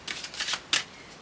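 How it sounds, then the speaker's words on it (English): Tarot cards are shuffled close by in a few quick riffling bursts, crisp and papery, with no one talking. "I'm like stopped shuffling and need one more card"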